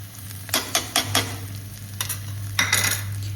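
Onions fry in a karahi as spice paste is added and stirred in, with repeated scraping spoon strokes in uneven bursts over a soft sizzle and a low steady hum.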